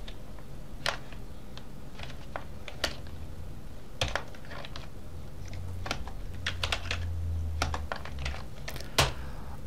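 JavaScript code is typed on a computer keyboard, with irregular bursts of crisp key clicks and occasional heavier keystrokes, quiet and close, and no voices.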